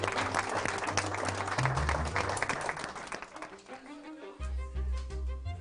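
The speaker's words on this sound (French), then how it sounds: "je vais commencer juste par vous donner une bonne main d'applaudissements" Audience applause at a local awards presentation, a crowd clapping under loud tonal music and voices, with the clapping fading as the music carries on.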